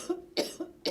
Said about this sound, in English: Excuse me, I'm just going to cough.